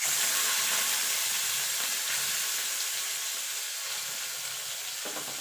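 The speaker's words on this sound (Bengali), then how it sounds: "এবার এটাকে একটু ভাজা ভাজা করে নেব।" Fish fat fries in oil in a wok with a loud, continuous crackling sizzle that stays even throughout, close up and without any talking.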